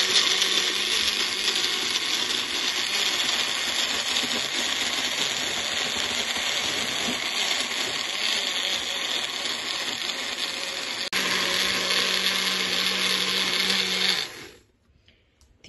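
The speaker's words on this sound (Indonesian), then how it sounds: "Di blender sebentar saja" A kitchen blender grinds chili for Indonesian sambal balado, a steady loud whirring motor running continuously for about fourteen seconds before cutting off abruptly.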